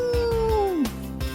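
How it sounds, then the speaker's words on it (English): A dog sound effect in a root beer ad: a long, loud, drawn-out howl-like wail that bends downward in pitch and breaks off, over low rhythmic thumps. "The sound of the dog."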